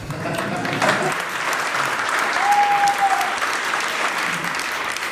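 An audience at a My Life is Poetry workshop reading applauds steadily, dense clapping filling the room with a brief whistle-like tone partway through.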